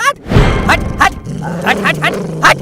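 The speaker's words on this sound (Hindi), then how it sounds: "बिट्टू कुत्ते को बाहर ले जा।" A dog barks several times in quick, sharp yaps and whimpers, close and loud.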